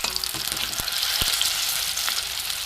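Bitter gourd sizzles steadily in hot mustard oil, a dense continuous crackle with a few sharper pops, close and fairly loud with no talking.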